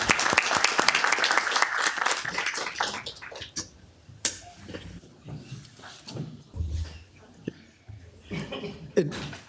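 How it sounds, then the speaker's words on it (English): A council chamber audience at a city council meeting in Downey applauds for about three seconds, the dense clapping fading into scattered claps and then spoken voices in the room. "Please give him a round of applause."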